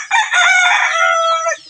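A Lemon Sweater or Gilmore gamefowl rooster lets out one loud, close crow lasting over a second, heard alone in the early-morning dark.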